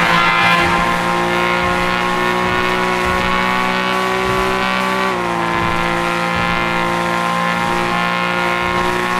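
A car takes a turn and skids, with a loud, steady engine drone and a sustained tonal squeal that dips slightly in pitch midway, continuing without a break.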